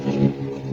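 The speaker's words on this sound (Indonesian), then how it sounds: "kalau sering ada suara motor atau suara mobil yang berseliweran cukup gede, karena posisi rumahnya dekat jalan raya" Cars and motorcycles pass on a busy main road near a house, a steady close engine rumble with a slight swell as a vehicle goes by, and no talking.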